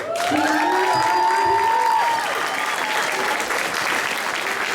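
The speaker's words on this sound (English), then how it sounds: "You're going to have to give them a big round of applause." Loud audience applause at a Ukrainian dance school's year-end performance, a thick continuous wash of clapping with a sustained tone ringing over it at first, fading slightly toward the end.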